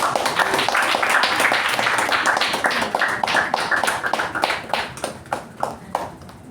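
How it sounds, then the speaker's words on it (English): An audience claps at a Toastmasters meeting, giving dense, close applause from many hands that gradually thins toward the end. "Let's give a huge round of of applause again because he's finished level 2 also."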